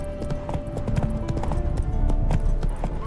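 Horse hooves clip-clop steadily in The Witcher 3: Wild Hunt, a loud, close, continuous gallop with occasional snorts.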